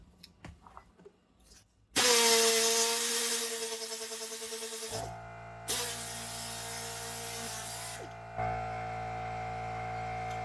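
Air compressor in a shop during ball joint work kicks on abruptly after a few faint knocks and runs loud and steady, its pitch and tone shifting a few times as it keeps going to the end.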